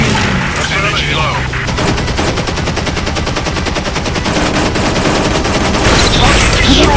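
Rapid machine gun fire rattles in the War Wings aerial combat game, dense bursts of fast repeated shots, loud and close, with brief game voice callouts over them.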